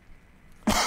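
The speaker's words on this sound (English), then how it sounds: "I'm coughing." A single sharp, loud cough from a person close by, bursting out abruptly after a stretch of quiet room tone during a PUBG session on Xbox One X.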